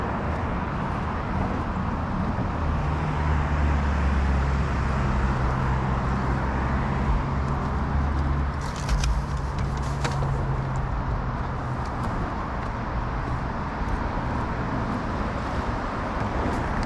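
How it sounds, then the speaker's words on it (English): Steady roar of cars driving past on a road beside the Lake Sammamish Trail, a continuous wash of traffic with heavier vehicles rumbling low and some wind on the mic. "So you can see lots of cars going by."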